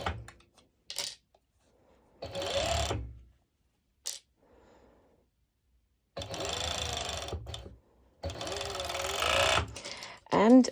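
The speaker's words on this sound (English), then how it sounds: "I've got here my serger ready, and I'm going straight ahead, and I will be serging it" Serger stitching leggings fabric in several short, loud bursts of rapid whirring separated by pauses, with a voice speaking between the runs.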